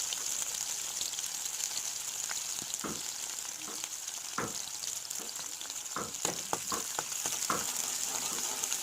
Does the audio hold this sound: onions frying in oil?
yes